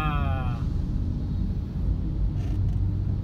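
Morning road traffic in Magallanes, Manila, rumbles close by as a steady engine drone, with a brief rising whine near the start and a few short hisses and squeaks later.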